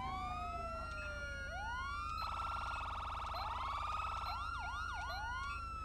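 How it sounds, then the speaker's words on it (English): An electronic police siren in the game GTA V with the LSPDFR mod wails alone, sweeping up and down, then switches to a steady tone and a fast yelping pattern, loud and close. "It's gonna start the second siren."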